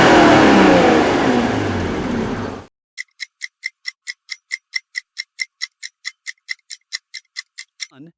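A Honda car engine revs hard with a sharp, sporty tone for a couple of seconds, then cuts off and gives way to a regular series of loud clicking ticks.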